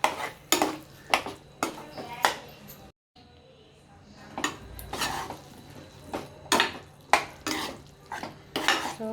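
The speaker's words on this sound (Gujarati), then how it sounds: "પછી આપણે આ બધું શાક એકદમ પ્રોપરલી મિક્સ કરવાનું છે આમાં।" A spoon stirs smoky eggplant bharta into vegetables in a pan, giving rhythmic clanks and scrapes against the metal, with a brief pause in the middle before the stirring resumes.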